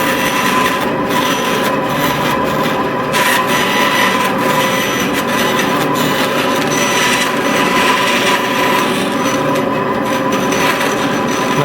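Hand saw working through wood while cutting out a dovetail joint, a steady continuous rasping rub that runs unbroken throughout, close and fairly loud with no talk.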